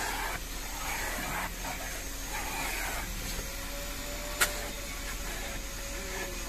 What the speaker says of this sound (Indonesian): Kita lakukan vakum supaya untuk penerimaan kepada konsumen